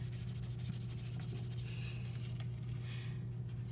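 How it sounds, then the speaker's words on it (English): Folded paper with wet ink blots is rubbed and smeared by hand, a steady close-up scraping friction over a constant background hum. "I'm going to smash it real good, rub it all in."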